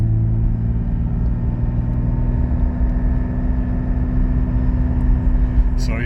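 A car fitted with a Soul Performance V2 exhaust, valves open, cruising at a steady speed. A continuous low droning rumble holds a constant pitch throughout, with no audible talk.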